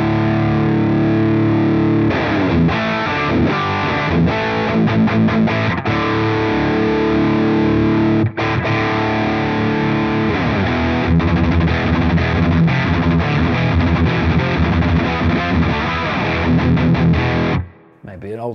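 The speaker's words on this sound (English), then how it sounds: "Hearing more saturation, more mid-range, come back in." Heavily distorted electric guitar through a Victory V4 The Sheriff amp with more saturation and mid-range, in an old-school metal style: a loud, continuous run of riffs and chords that breaks briefly midway and stops near the end.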